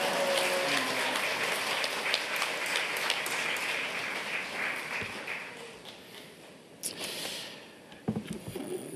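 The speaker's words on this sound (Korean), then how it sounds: "목사님 나오실 때 우리 큰 박수로 할렐루야로 환영하시겠습니다" A church congregation at a Full Gospel service claps to welcome the pastor. The applause starts full and close, thins out over several seconds, then trails off into a few scattered claps and small noises.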